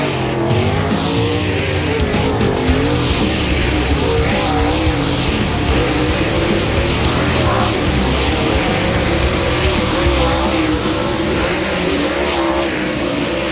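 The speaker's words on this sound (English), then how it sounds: "the World of Outlaws late models as we get ready to let them loose here in the final hot lap session of the night" World of Outlaws dirt late model race cars on a hot lap at Farmer City Raceway: a dense, continuous roar of several engines revving and droning together, loud and steady, with no talking.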